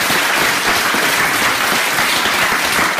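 Audience at a French prayer and deliverance meeting in Lyon breaking into loud, dense applause, a continuous wash of many hands clapping close by with no clear cheering or speech.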